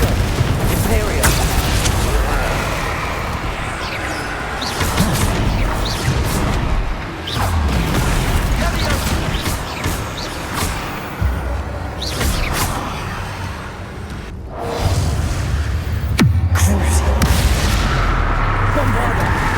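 Bombarda and Confringo spell blasts in Hogwarts Legacy erupt as heavy, repeated booms and crashing impacts, like a barrage of artillery, with a voice calling out over the loud, dense explosions.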